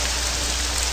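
Steady rain falling outdoors, a dense, even hiss that fills the whole moment with no voices over it.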